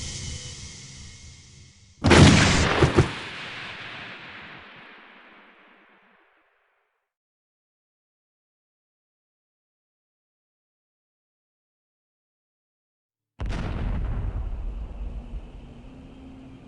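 A single loud, sharp gunfire burst from an execution in the strategy video game Battle Isle: The Andosia War, decaying over a few seconds, then near silence before another heavy impact-like blast rises near the end.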